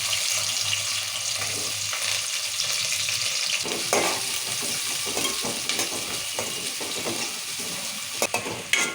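Green chillies sizzle in hot oil in a pan for chicken curry, a continuous loud close frying hiss with scattered crackles and light stirring clatter toward the end.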